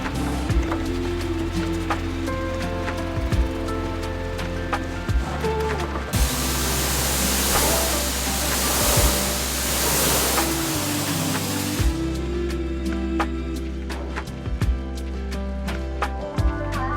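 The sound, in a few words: pressure washer rinsing a classic Chrysler Valiant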